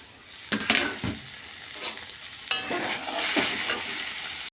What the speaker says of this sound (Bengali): এখন ভেজে নিচ্ছি।